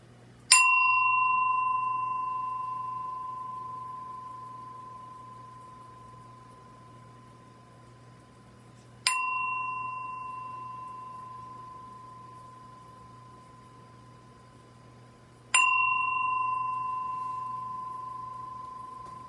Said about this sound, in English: So I'm going to ring this bell 3 times